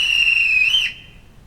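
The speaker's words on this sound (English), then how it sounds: "We do have the guard's whistle," A guard's whistle from the sound system of an Accurascale class 55 Deltic DCC model locomotive: one shrill, steady blast lasting under a second with a slight pitch wobble at the end, then a short outdoor-style echo tail.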